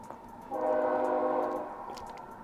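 A train horn sounds one sustained, chord-like blast lasting about a second, fairly loud, over quiet background with no talking.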